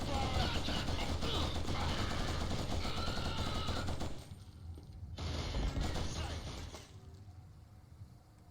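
Rapid automatic gunfire in the Killzone HD shooter game, a dense continuous burst of shots that thins out and stops, then a shorter volley, heard amid combat noise.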